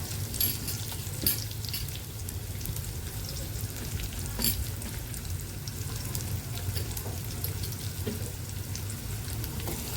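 Onions frying in a pan for a moringa leaf subji, a steady close sizzle with crackling spatter and occasional stirring scrapes running throughout, with no talk.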